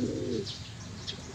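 A pigeon in a racing loft gives one brief, low coo at the start, followed by faint chirps over quiet background hum.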